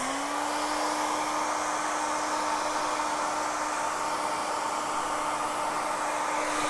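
Hair dryer blowing steadily on airbrushed paint on a softball helmet, a loud continuous whooshing roar with a constant motor whine, close and uninterrupted, no talking.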